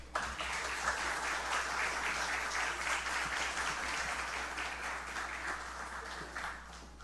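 A seated audience at an evening lecture marking Brazil–Japan friendship gives a warm round of applause to welcome the speaker, continuous dense clapping from many hands lasting several seconds at an even level.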